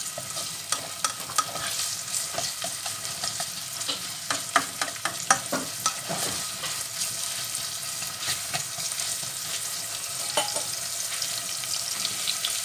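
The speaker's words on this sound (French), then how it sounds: "je suis en train de faire suer l'oignon" Onion sweating in a frying pan for a vegan African dumpling dish with courgette seeds, a steady close sizzle broken by scraping stirs and occasional clinks, with no talking.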